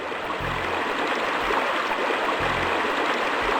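River water flowing in the 1996 video game Normality, a steady rushing wash under faint low hums that come and go, continuous and close.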